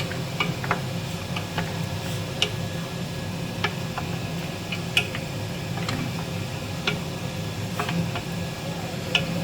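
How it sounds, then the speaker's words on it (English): Meat being stirred into a Nigerian okra soup stew base, soft scattered ticks and spoon clicks over a low steady simmer, close and unhurried with no one speaking. "Got the meat in the stew base. Stir it up."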